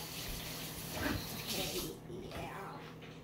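Water runs from a kitchen tap while hands are washed during cake baking, a continuous splashing flow under someone talking nearby.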